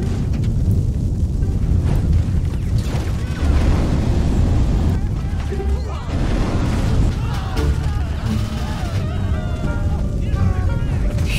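A fire-throw power blasting out in a Thanos superhero video game, a loud, sustained roaring rumble with bursts and crackles lasting throughout, with a voice talking over it.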